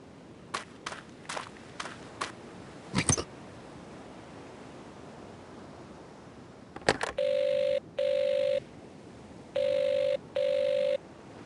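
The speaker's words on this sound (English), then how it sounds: "Phone isn't much good if no one will answer it." A telephone rings unanswered in an Agatha Christie mystery video game, four clear ring bursts coming after a few footsteps and clicks, with no voices over it.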